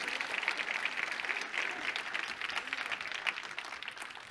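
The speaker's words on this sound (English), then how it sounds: "Give them a round of applause, please." Audience at a panel discussion on agriculture and public health applauding the panelists, a dense, sustained wash of many hands clapping at moderate distance that carries on steadily throughout.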